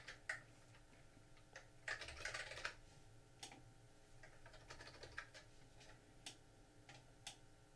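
Typing on a Keyboardio Model 1 keyboard: quiet, close key clicks in irregular bursts, with a denser flurry around the second second, and no voices.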